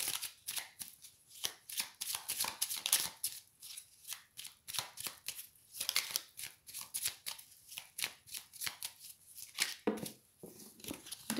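Oracle cards are shuffled by hand in a steady, soft rustling and flicking rhythm that continues throughout, close and quiet, with no talking.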